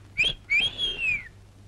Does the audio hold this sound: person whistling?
yes